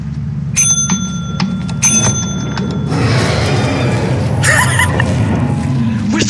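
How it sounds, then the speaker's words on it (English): A bicycle bell rings twice in quick succession with bright, sustained metallic tones, then a third burst of ringing comes later over a busy, noisy background of thumps and rumble. "Alright, can you ring the bell, please?"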